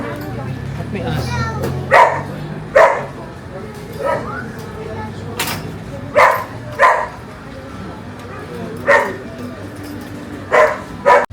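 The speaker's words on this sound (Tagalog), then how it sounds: "At may aso." Small dog barking in sharp, repeated yips at irregular intervals, close by in a busy mall in Dubai, with people talking and crowd murmur underneath.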